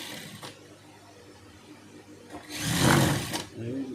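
Sewing machine stitching the side seam of a school uniform dress, a short run of close, whirring stitches rising near the end after a quiet stretch.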